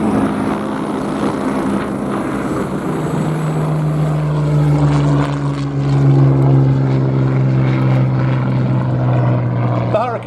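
A Hawker Hurricane flies past at the Abingdon air show, its engine a steady loud drone that swells and deepens midway with a low sustained hum, while a commentator's voice runs underneath.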